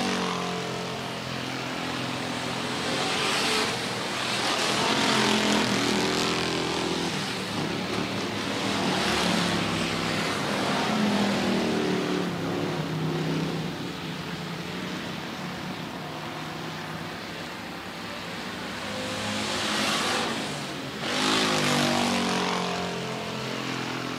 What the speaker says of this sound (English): they'll come to two to go in the opening heat race of the Lems Auto Recyclers Sportsman